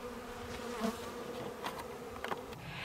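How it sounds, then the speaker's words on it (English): Honeybees buzz steadily around a beekeeper in a sticky, filthy bee suit during a late-winter hive feeding, a continuous close drone with brief louder swells as individual bees pass near. "the bees are going to be landing on me any minute"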